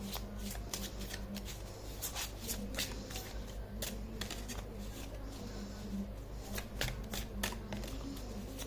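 Tarot cards being shuffled close by, with rapid repeated riffling and flicking bursts that keep going, plus faint background noise.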